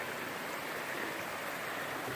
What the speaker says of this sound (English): This is the Laurel Fork River.